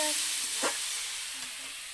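Cabbage and potato fry in a pan, a loud steady hiss of sizzling oil with a brief scrape of stirring near the middle, close up and without speech.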